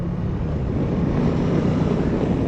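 A Suzuki V-Strom 1050 XT motorcycle on the move gives a loud, steady roar, with heavy rushing wind blending with the engine drone throughout.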